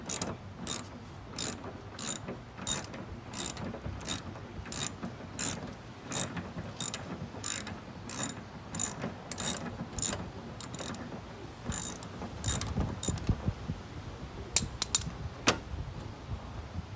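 A ratchet wrench loosens a bumper bolt on a 1997–2001 Toyota Camry, clicking in fast, regular bursts of sharp ticks, close up, with brief pauses and some clunks of the tool near the end.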